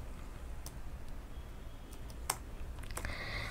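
A computer keyboard being typed on while writing PHP code, with a few sparse, faint key clicks and one sharper tap over a steady background hiss, and no voices.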